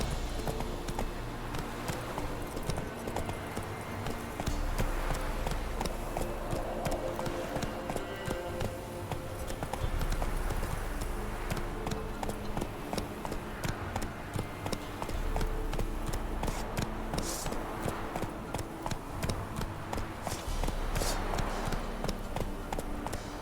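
Roach, the horse in The Witcher 3, gallops in a steady rapid rhythm of hoofbeats throughout, layered over game music and ambience, with a voice occasionally speaking over it.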